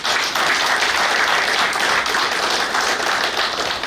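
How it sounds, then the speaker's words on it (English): Audience at a naval warfare course graduation ceremony at the Naval War College Nigeria gives a loud, sustained round of applause, dense clapping filling the whole stretch without pause. "May we give him another round of applause?"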